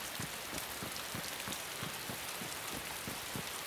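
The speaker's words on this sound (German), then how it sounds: "Wenn dieser Regen mal nicht wäre." Heavy rain falls in the video game DayZ, a dense, steady hiss with soft drop impacts recurring in a loose rhythm, and no voices.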